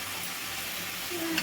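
Chopped onions frying with salt in a pan, a steady close sizzle with a bit of stirring, brief and continuous.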